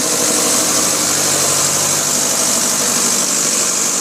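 A Land Rover Series 3 engine, just restarted after a rebuild, runs in a smoky enclosed space with a loud, steady, rough mechanical drone close by, no one talking.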